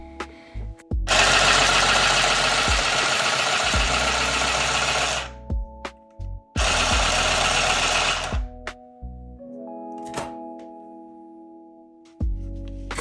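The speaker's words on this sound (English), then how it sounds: "2 pieces of faux leather, which the needle also sewed through pretty easily" A mini handheld sewing machine whirs loudly in two long steady runs sewing through faux leather, each ending with a clunk, followed by quieter mechanical clicks and a hum.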